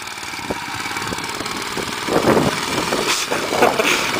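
A homemade mini bike's small engine idles close by with a steady, rough mechanical rumble and some knocking, swelling slightly in the second half, with no voices.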